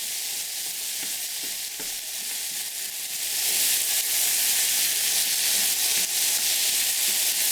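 Steady, loud sizzling of pork chops frying in a hot pan, a continuous crackling hiss that swells partway through, with no talking.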